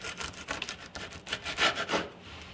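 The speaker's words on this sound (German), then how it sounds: "Ich schneide mir noch eine Scheibe" A knife saws through a thin slice of moist flourless loaf made without yeast or baking powder, giving a run of rough scraping strokes in quick rhythm, close and alone.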